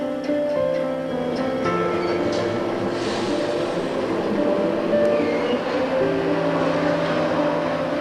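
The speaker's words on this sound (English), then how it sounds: "Soon after, with a green, the train departs." A Glasgow Subway train rumbles steadily with a low mechanical hum and faint squeals, a continuous moderately loud drone as it departs the station, no voices.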